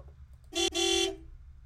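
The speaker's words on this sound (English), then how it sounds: "Honk." A car horn blares in a horror video game, a short toot followed by a slightly longer honk, loud and close with a brief gap between them, with no one speaking.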